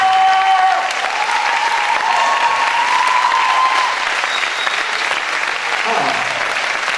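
Loud, dense applause from an audience opening the Miss Ronde Aquitaine 2013 show, sustained throughout with crowd noise, music and voices mixed in.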